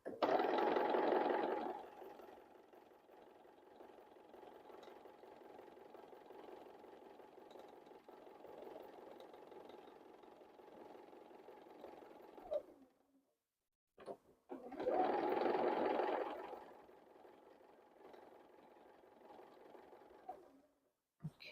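Sewing machine stitching a quilt seam for a half-yard wreath wall hanging, a steady faint whir running continuously, pausing briefly before resuming, with louder bursts at the start and after the pause.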